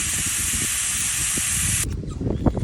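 Air hisses out of a tire as its valve core is removed during a TPMS sensor replacement: a loud, steady, close rush lasting under two seconds that cuts off abruptly, followed by faint handling clatter.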